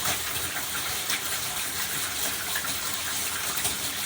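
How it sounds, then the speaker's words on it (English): Water turned on and spraying out of a tube in a Bernoulli-equation demonstration setup, giving a steady broadband hiss and gush that holds at an even level throughout with no speech. "I will now turn on the water to prove that the water reaches all my marked points."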